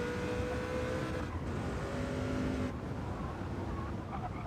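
A race car engine in Gran Turismo 7 drones steadily at high revs with a gear change partway through, loud and continuous, the tone dropping slightly as it settles.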